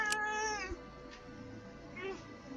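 A cat gives a drawn-out meow near the start and a shorter one toward the end, both fairly close, over a low background hum.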